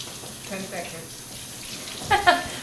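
Kitchen tap water runs steadily over cans of beans, a soft continuous splash with a couple of sharper splatters near the end and faint voices in the background.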